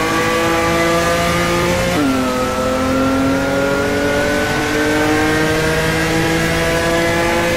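A race car engine in an online racing game holds a loud steady drone, drops sharply with a gear shift around two seconds, then climbs again in pitch as it accelerates, with no talk over it.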